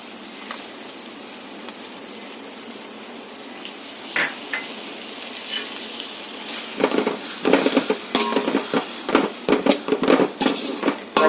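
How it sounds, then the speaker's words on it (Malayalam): Onion and tomato paste frying in a pan for chicken curry, a soft sizzle that turns into louder, uneven scraping and clattering bursts as a spoon stirs it, close by, with no voices. "തക്കാളി പേസ്റ്റിൻ്റെ പച്ചമണ്ണം മാറി വരുന്നിടം വരെ ഒന്ന് ഇളക്കി കൊടുക്കാം"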